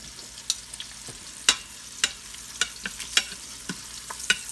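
Turkey wings sear in an Instant Pot with a soft steady sizzle, broken by a series of sharp scraping and clacking stirs at irregular intervals, close and fairly loud, with no voices.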